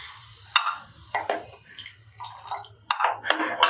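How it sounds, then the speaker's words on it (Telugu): A pot of water boiling on a home stove, a steady bubbling hiss with irregular splashy pops and gurgles throughout, close and moderately loud. "వాటర్ బాయిల్ అవుతుంది, మీరే చూస్తున్నారు."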